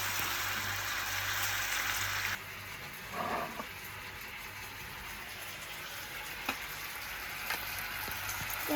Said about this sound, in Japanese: じゃあこのぐらいふつふつ煮切ったら醤油をかけます